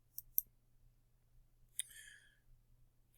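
A few soft mouse clicks, single and double, sound close and faint in an otherwise quiet room, with no talking.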